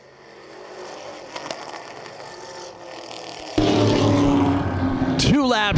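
Race cars circling Wiscasset Speedway in the closing laps of a Week 3 event, a steady engine roar that grows louder partway through as the pack nears, with a commentator talking over it.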